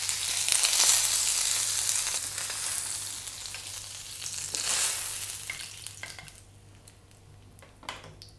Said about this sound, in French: Les brochettes nécessitent 1 minute de cuisson sur chaque face.